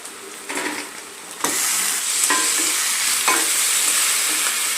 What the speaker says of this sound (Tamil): அடியில் இருக்கிற அந்த ஆனியனை தூக்கி அப்படியே மேலே மேலே போட்டிங்கன்னா நல்ல ஓரளவுக்கு ஃபிக்ஸ் பண்ணிடலாம்